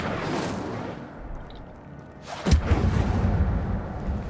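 Incendio fire spell in Hogwarts Legacy, starting with a low rumbling rush. A sharp burst near the middle gives way to a heavy crackling roar of flames that holds to the end.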